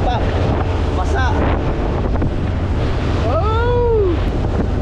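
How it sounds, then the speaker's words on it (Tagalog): Loud, constant wind roars across the microphone on a rocking boat, with water sloshing beneath and voices shouting briefly over the gusts. "naabot kami ng lakas ng hangin"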